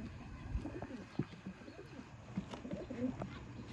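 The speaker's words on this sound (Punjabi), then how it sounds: "ਮੀਆਂ ਸਾਹਿਬ ਵਾਲੇ ਦੋਸਤੋ ਕਬੂਤਰ" Mian Sahib pigeons coo in a low, soft rhythm, several throaty calls repeating close by over a steady murmur of background noise.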